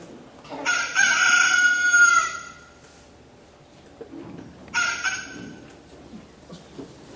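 A rooster crows twice, loud and close, each call a long bright cock-a-doodle-doo, the first near the start and a shorter second one a few seconds later, with faint background rustle between.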